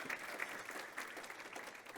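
Audience applause at a fireside chat event, steady continuous clapping from a crowd filling the whole stretch at an even level.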